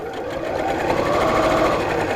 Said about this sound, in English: sew around the curve.